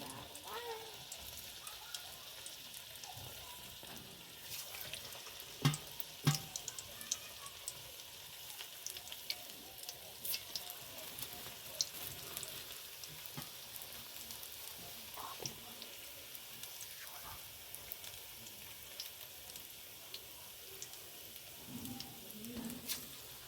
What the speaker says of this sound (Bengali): তেল গরম হয়ে গেছে, এখন আমি বড়াগুলো ছোট ছোট করে ভেজে নেব।